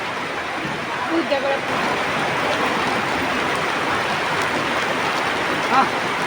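Rain pours down outdoors in a steady, dense hiss that fills the whole stretch, with faint voices buried beneath it.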